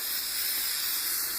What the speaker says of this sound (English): I'm going to go ahead and spray this down with the Bostitch